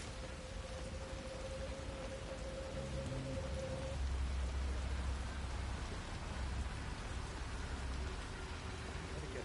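Steady rain falls in a video game, a dense continuous hiss with low rumbling under it and a faint tone fading out early on.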